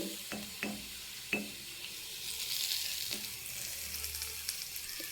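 Sweet potato pieces sizzling in a pan with salt, turmeric and chilli powder, stirred with a few sharp spoon scrapes and knocks over a quiet, steady fry.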